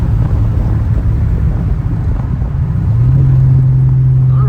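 Car driving along country roads, a steady low road and engine rumble throughout with a sustained low tone rising slightly near the end, no talking.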